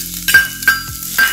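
Garlic paste and onion sauté in a pan with a loud, steady sizzle, broken by three rhythmic scraping stirs of a utensil across the pan bottom.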